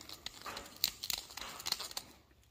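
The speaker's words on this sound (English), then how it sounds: "I like to take the ones I cut and I'll deburr the edges." Scratchy scraping and crinkly rasps come from a tool deburring the freshly cut edges of pipe pieces for a network cable trench. The strokes are irregular and fairly close, with no talking.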